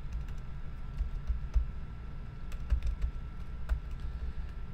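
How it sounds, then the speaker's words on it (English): Typing on a computer keyboard, a fast run of light clicking keystrokes with occasional sharper taps, close and fairly quiet, with no voices. "So I'll just type in pasted link here."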